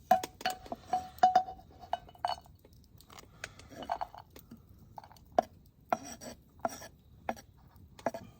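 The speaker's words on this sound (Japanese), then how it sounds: "ネギをみじん切りにして、" A knife chops green onions finely on a board at a rainy campsite, giving quick, irregular taps in bursts with a few glassy clinks between them.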